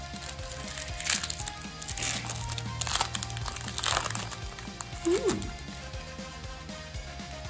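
Plastic wrapper of a Kings Court trading card pack crinkling and crunching in bursts as it is torn open, close and fairly loud under background music and some talk.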